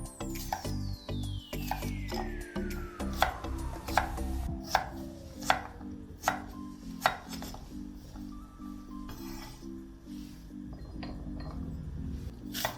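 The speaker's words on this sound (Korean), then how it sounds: "오이는 작은 크기로 다이스합니다." A knife dicing cucumber into small pieces on a cutting board, a long run of quick, regular close taps and chops over faint background hum, with a few louder strikes mixed in.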